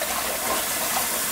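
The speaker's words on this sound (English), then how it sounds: "Just wash all the mud off of these." Running water rinses mud off freshly picked wild garlic bulbs, a steady close wash with no pauses.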